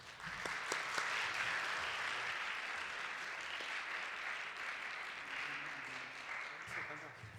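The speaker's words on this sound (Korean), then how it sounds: "우리가 큰 박수로 김영길 목사님 맞겠습니다" An audience at a pastors' gathering claps to welcome a retired pastor to the lecture, a broad sustained round of applause at moderate distance that fades slightly toward the end as a voice begins.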